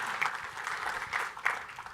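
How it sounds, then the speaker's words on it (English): Audience at a conference breaks into applause: a steady patter of many hands clapping in a large room, with a few sharper individual claps standing out above the crowd. "Ruckus applause for her"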